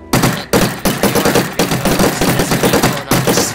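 AK rifle fired in a Minecraft server game, a rapid, loud burst of automatic gunshots in a steady rhythm with only brief pauses between strings of rounds.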